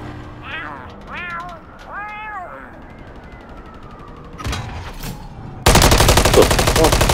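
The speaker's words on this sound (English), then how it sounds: "Where's he shooting from?" Gunfire erupts in a video game Search and Destroy match, a dense, loud burst of rapid shots arriving suddenly near the end after quieter game sounds and meowing-like tones.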